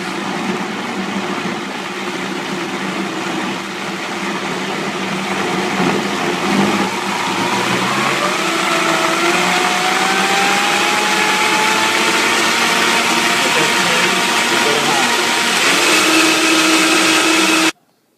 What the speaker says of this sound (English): I turned the blender off.